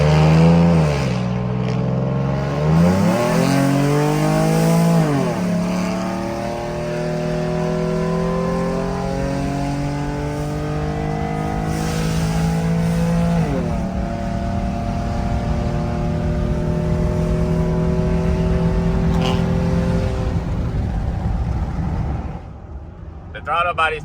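A car fitted with a throttle body spacer and cold air intake accelerating hard from the cabin, a loud engine roar rising through the revs with clear gear changes, climbing again after each shift, a voice talking over it.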